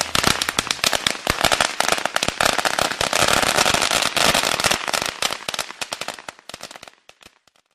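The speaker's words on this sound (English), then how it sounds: "Like we would use firecrackers" A long string of firecrackers pops in rapid, dense bursts of sharp cracks, loud and close, thinning to scattered snaps before fading out.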